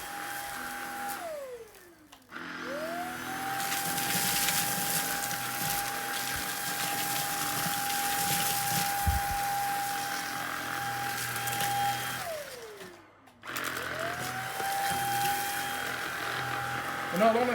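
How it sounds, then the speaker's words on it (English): A Greenote cordless vacuum cleaner runs in turbo mode with a loud, steady motor whine. It winds down and quickly spins back up twice, with each drop and restart audible as a falling then rising pitch. "So it's a turbo mode now, so let's see how well it does."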